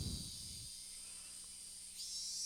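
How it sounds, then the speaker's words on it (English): Cicadas in the video game Higurashi make a constant high-pitched drone that stays fairly faint and even, with a brief low rumble at the very start. "that's exactly how they sound. Cicadas"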